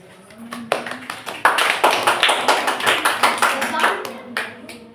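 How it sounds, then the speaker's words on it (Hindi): A classroom of students claps for a classmate, a dense burst of many hands that starts with a few scattered claps, builds into steady rhythmic applause and tapers off near the end, with a voice speaking briefly at the start. "ऑनलाइन ताली बजा दी।"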